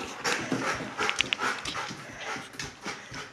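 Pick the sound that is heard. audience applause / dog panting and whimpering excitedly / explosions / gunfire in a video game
dog panting and whimpering excitedly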